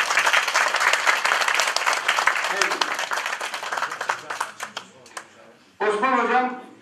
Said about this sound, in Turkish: Alkışlayalım arkadaşlar